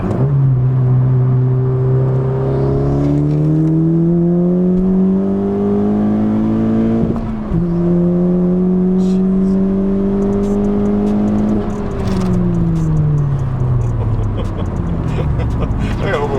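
A 10th-generation Honda Civic Si with an upgraded turbo pulls hard in second gear along a winding road, its loud, close engine drone climbing steadily in pitch, dipping briefly midway, climbing again, then easing off and falling near the end.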